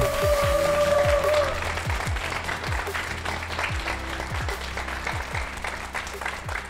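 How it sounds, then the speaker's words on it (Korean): Audience applause for six contestants at a competition show, steady clapping that stays moderately loud, with a short tonal sound early on and low rhythmic thumps of music running beneath. "조금만 더 박수 부탁드리겠습니다"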